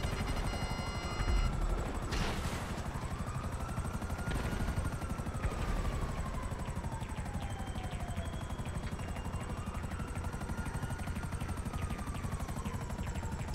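A helicopter in the video game Grand Theft Auto V thrums continuously with steady rotor chop and a whining engine pitch that rises and falls, loud and close, with no talking over it.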